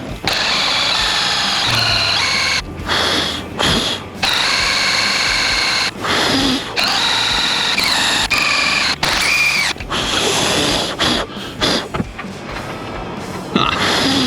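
A loud drill grinds continuously through metal on a boat trailer, with shifting pitch, brief stops and restarts, and scraping clatter throughout.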